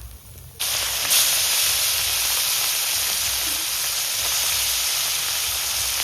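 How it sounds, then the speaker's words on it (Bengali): The remaining fish go into hot oil in a pan, setting off a sudden, loud hissing sizzle that holds steady and unbroken after a brief quiet start. "বাকি মাছগুলো ভেজে নেবো"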